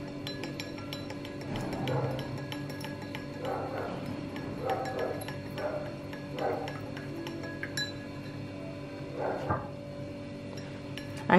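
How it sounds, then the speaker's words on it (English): Metal spoon clinking against a glass while stirring warm salt water, a series of light, irregular taps and chinks close by over a faint steady background hum. "I'm just going to give this a stir."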